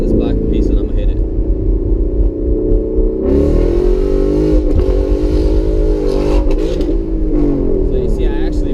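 A 2016 Ford Mustang GT fitted with Steeda independent rear suspension parts accelerates hard in first gear, its close engine roar loud and sustained, swelling partway through while someone talks over it.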